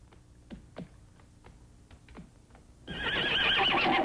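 A horse whinnies in short bursts, sharp neighs repeating over a quiet background before a sudden loud burst of noise takes over near the end.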